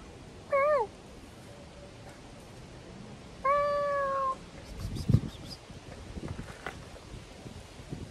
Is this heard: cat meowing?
yes